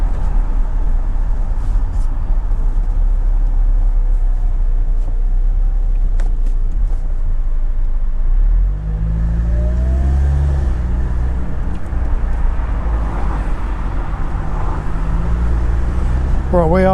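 Steady car engine drone and road traffic noise while driving through Walsall in stuck traffic, a continuous loud low rumble with some music and a voice talking over it.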